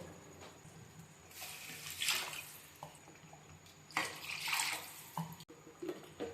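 Water is poured from a glass into a pot of bulet rice for an avarekalu pudina rice bath, coming in several short splashing pours, quiet and close, with no voices.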